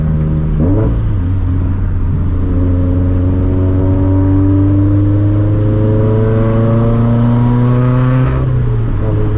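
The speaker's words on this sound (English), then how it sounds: "I hope you guys can hear this turbo" A turbocharged 400 hp Scion FR-S engine revs up loudly and steadily, its pitch climbing through the gears, heard from inside or very close to the car with the windows down.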